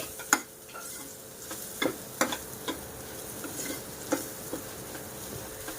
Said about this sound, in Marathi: आता हे सर्व मसाले की नाही छान असे परतवून घ्यायचे एक दोन ते तीन मिनटं